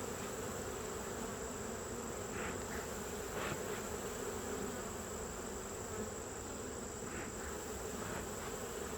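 Honeybees buzz in a steady dense drone from an opened hive during an inspection, close and continuous, with faint handling clicks and no voices.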